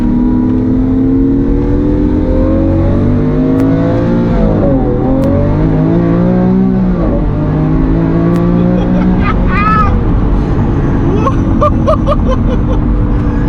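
A Lamborghini Aventador accelerates hard around a roundabout on a quiet Sunday road, its engine revving up and sweeping through gears, loud and close, with people talking over it.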